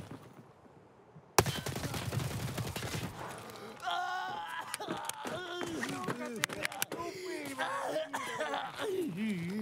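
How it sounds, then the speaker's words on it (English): Gunfire in the shooter game Escape from Tarkov: a sharp burst of rapid automatic shots followed by scattered single shots, loud and close, with a voice talking over the shooting. "Any particular reason why you're shooting at me?"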